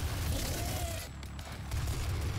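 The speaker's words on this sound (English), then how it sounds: "It's also a very nice noise that the mobile sentry uses." Rapid automatic weapon fire from a mobile sentry turret in DOOM on Mars, a dense continuous rattling burst that dips briefly midway then resumes, loud and close with game effects layered underneath.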